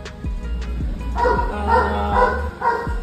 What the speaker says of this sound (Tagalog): Sorry, medyo maingay yung aso guys.